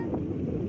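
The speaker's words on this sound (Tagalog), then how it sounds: "Sarap ng hangin dito" Wind buffets a microphone on the shore at Boracay, a low rumbling gust that rolls steadily through a brief moment with no voices.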